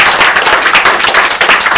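A small crowd claps for a magic trick at a mall, a loud, close, rapid patter of many hands that stays steady throughout, with no voices.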